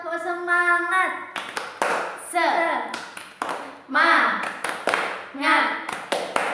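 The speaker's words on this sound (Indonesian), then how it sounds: "kita tepuk-tepuk terlebih dahulu" Children in a classroom ice-breaking clap game clap their hands in quick bursts of sharp, close claps, mixed with their chanting and talking voices throughout.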